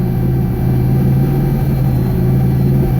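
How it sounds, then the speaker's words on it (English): A 1999 Nissan Frontier with a turbocharged engine idles: a steady, loud, low mechanical hum with a constant throb and no change in pitch, heard close up with no talking. "started it up, and I've got it idling now"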